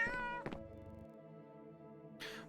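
In the Cats and the Other Lives game, a cat gives a couple of short, clear meows at the start, then a sustained tonal hum lingers quietly before a brief breathy burst at the end.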